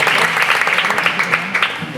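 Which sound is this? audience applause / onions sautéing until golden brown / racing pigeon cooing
audience applause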